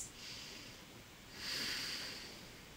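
Slow, deep breaths taken during a yoga flow, two soft airy exhales close to the mic, the second louder and longer, with no talking.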